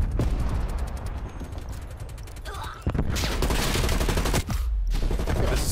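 Gunfire in Call of Duty Black Ops Cold War crackles in rapid automatic bursts, loud and close, with a dense sustained burst in the second half and a brief pause near the end.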